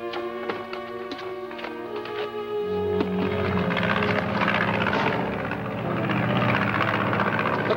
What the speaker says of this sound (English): Looks like one of Fowler's planes.